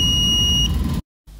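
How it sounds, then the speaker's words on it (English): Arduino piezo buzzer giving a steady electronic beep right after a program upload, one sustained tone lasting about a second, then cutting off abruptly to silence. "If your buzzer is connected correctly, you will hear it briefly make a noise as soon as the program finishes uploading."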